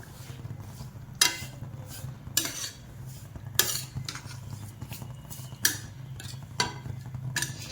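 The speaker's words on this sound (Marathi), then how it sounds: "तुम्हाला किती कमी जास्त गोड लागतंय तेवढी साखर घाला. चांगलं मिक्स करून घ्यायचं याला." A spoon stirs sugar into carrot halwa in a kadhai. Sharp metallic scrapes and clinks strike roughly every second over a low, quiet background, with no voices.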